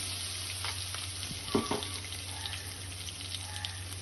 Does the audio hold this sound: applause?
no